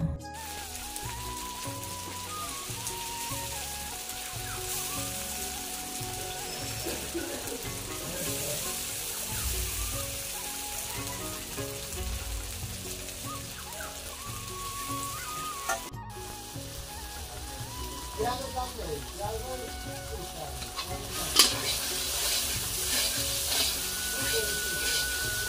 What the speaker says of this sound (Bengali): এবার মাংস বসাবে